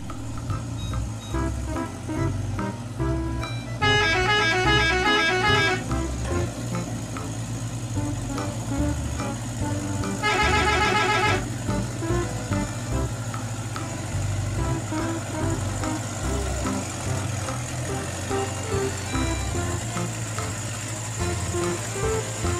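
A truck carrying cows runs its engine with a steady low rumble throughout, while two bursts of rapid reversing-style beeping ring out over the motor noise.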